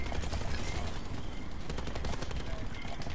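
Dense, continuous automatic gunfire in Call of Duty: Black Ops 4, loud rapid shots overlapping into a steady barrage, with a player's voice talking over the shooting.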